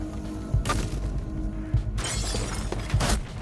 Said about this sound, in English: You actually can't hear anything until the glass breaks.